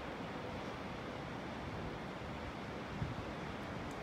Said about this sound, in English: Pretty windy out here.